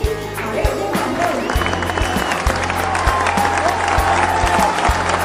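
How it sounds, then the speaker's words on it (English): An audience at a glossary quiz competition claps together for several seconds, a dense patter of hand claps in a room, with a voice briefly audible. "Clap, everybody clap."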